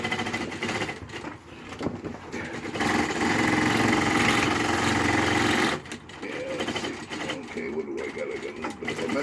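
A sewing machine stitches through wire mesh, making a steady, close mechanical whirr that runs for several seconds, cuts out briefly and then starts again, with a person talking over it.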